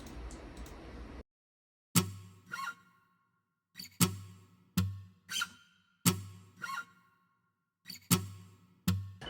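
Sparse percussive fingerstyle acoustic guitar hits, slaps and plucked tones spaced in a loose rhythm, each decaying quickly into silence.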